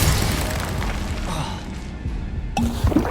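A Confringo fire spell blasts in Hogwarts Legacy, a loud booming burst over rumbling combat noise, followed by a sharper crack near the end.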